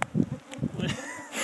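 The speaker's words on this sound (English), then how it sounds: "the whole horizon is just nothing but mosquitoes as far as the eye can see" A swarm of mosquitoes buzzing outdoors, heard as a close, faint, wavering insect whine with brief rustles and bumps near the microphone.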